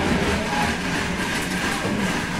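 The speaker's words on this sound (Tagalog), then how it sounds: "Andito na tayo ngayon sa sakayan ng tren" An automatic train at Shenzhen station gives off a steady, loud rumble and whir of rolling rail cars, a continuous mechanical drone close by with no speech.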